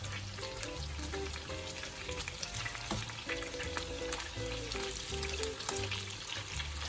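Fish tocino sizzles and crackles steadily as it fries in a pan, a constant bright hiss with small pops, set under quiet background music.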